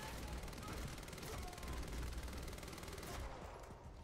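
Rapid gunfire in the shooter game Quantum Break, a dense sustained burst of automatic shots over steady game noise, fairly faint overall, lasting about four seconds.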